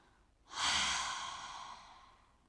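A single long, deep exhale during a meditation session, close and soft, swelling quickly and then slowly fading as a breathy rush of air with no talking.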